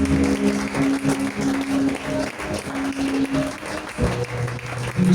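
A church congregation applauding the King of Kings, a steady wash of clapping from a crowd running throughout, with organ or keyboard chords sustained underneath.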